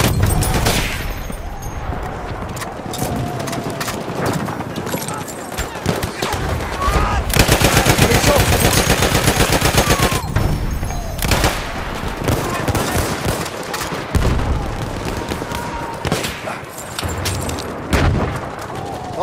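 Rapid bursts from a Lewis Gun light machine gun in its Low Weight variant in Battlefield 1 on PS5 rattle loudly and almost nonstop for about twenty seconds, with heavier booms and explosions mixed in and brief in-game voices underneath.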